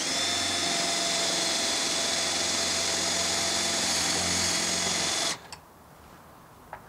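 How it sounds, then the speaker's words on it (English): A power drill pre-drilling a hole gives a steady, loud mechanical whir for about five seconds, then cuts off abruptly, leaving quiet room noise and a couple of small clicks. "grab your drill, pre-drill your top hole"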